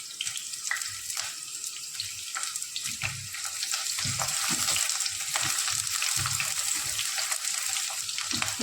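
Onion and green chillies fry in a few spoons of oil in a pan, giving a steady hiss and sizzle with occasional stirring clinks and scrapes. No one speaks.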